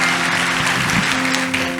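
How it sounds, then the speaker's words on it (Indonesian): An audience at a church youth revival service claps in a brief, steady burst of applause, loud and close throughout. "Silakan tepuk tangan."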